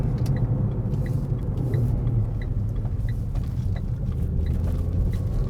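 Renault Clio 220 Trophy running in manual shift mode, heard from inside as a steady low engine rumble and road drone, with small rhythmic ticks over it and no speech.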